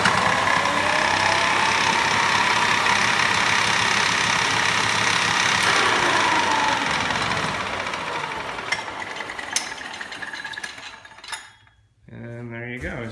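A homemade electric motorcycle with a CVT upgrade runs with a loud, rough, broadband whir and mechanical clatter, then fades and cuts off near the end before a short whine.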